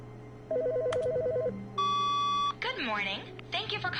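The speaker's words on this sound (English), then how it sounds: "I hear a phone ringing." Telephone ringing in the video game The Stanley Parable: an electronic warbling ring followed by a long steady tone, then a voice speaking in bursts over faint background hum.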